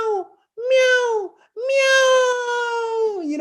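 A person's voice imitates a hungry cat with two drawn-out, whiny meows, the first short and the second longer, close and clear.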